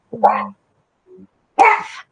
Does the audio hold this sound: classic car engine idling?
no